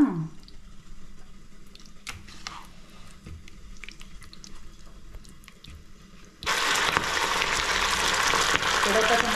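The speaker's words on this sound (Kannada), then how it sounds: "ಎಣ್ಣೆ ಕಾಂಜಿತ್ತು ನೋಡಿ. ಇಕ್ಕ ಒರೇ ಪೀಸ್ನ ಇಡೋಣ." Chicken garlic kabab pieces go into hot oil, a quiet faint bubbling that suddenly jumps into a loud, dense, steady sizzle and crackle of frying.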